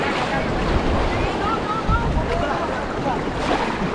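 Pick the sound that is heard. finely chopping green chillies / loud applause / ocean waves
ocean waves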